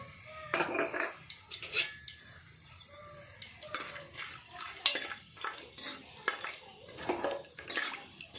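Whole spices (cinnamon, cloves, cardamom and star anise) fry in ghee for ghee rice while a metal spoon stirs the pan, giving intermittent clinks and scrapes at close range, with no voices.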